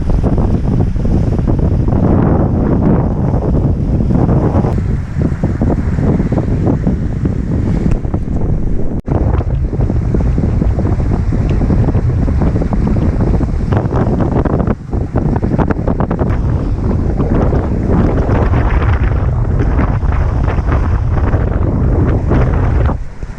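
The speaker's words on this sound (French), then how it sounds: "Il est 2h30 du matin et il y a 20 nœuds de vent." Strong wind roars steadily across a sailboat at sea in the Ionian at 2:30 at night, blowing about 20 knots, with waves and water rushing past the hull and continuous buffeting noise on the microphone, loud and unbroken throughout.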